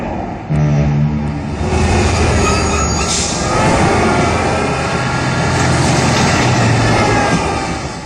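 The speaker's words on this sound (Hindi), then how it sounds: "जिसमें एक रेलवे ट्रैक है जिस पर रेलगाड़ी दौड़ती है" A toy train on a model railway track set runs continuously, giving a loud, steady rumbling rattle with a faint wheel squeal.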